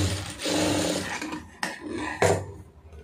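Short bursts of a sewing machine stitching a lining piece onto a blouse, with fabric rubbing and handling noises between them, close and fairly loud.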